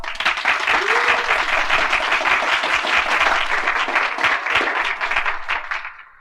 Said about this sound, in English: I should like to thank those of you who applauded when you heard the name Bruce Howard